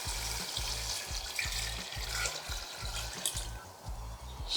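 Water pours steadily into a pot of browning curry beef on the stove, a broad, continuous splashing hiss heard alone, with a regular low thumping beneath it.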